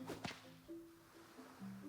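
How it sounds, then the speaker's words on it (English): A whip swings in Luma Island with a quick sharp crack and whoosh near the start, followed by soft game tones, with no talking. "Let's see if the whip is better now for this guy."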